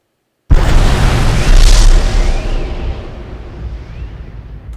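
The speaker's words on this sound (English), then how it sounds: "Then a patrol mech destroyed explosion. This is a very large explosion, probably the biggest one in the game." A patrol mech in a video game blows apart in a huge, loud explosion: a sudden heavy boom bursting from silence, then a long rumbling roar that slowly fades.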